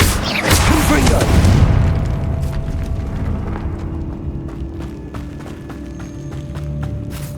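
A Confringo fire blast spell explodes in Hogwarts Legacy, a loud booming burst at the start that rumbles and slowly fades into lingering crackling debris and ambient game sound.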